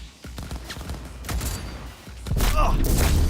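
A rifle in Cyberpunk 2077 fires a quick series of sharp shots with heavy recoil, followed by a louder burst near the end, with brief talk over the shooting.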